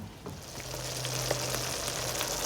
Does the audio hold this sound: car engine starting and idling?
no